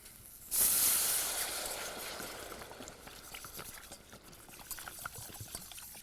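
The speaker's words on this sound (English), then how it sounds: "Okay, I'm going to add my water to get my gravy started." Water poured into a hot pan to start gravy bursts into a loud, sudden hiss of steam that slowly fades into a bubbling, crackling simmer, close by and with no talking.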